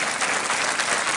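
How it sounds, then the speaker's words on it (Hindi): Studio audience on a TV quiz show claps in a steady, even wash of applause that stays fairly soft throughout a short stretch, with no talk over it. "तालियां बजती रहनी चाहिए देवी और सज्जनों"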